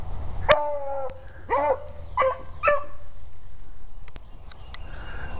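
Beagles bark several times in quick succession while hunting, moderately close, followed by scattered clicks and quiet outdoor ambience.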